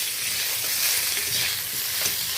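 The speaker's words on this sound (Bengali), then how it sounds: "আমটা ফোড়নের সাথে হালকা করে নেড়ে নেব" Mango pieces and green chillies stirred into hot oil tempering with spices, giving a steady close sizzle with soft scraping stirs throughout and no voices.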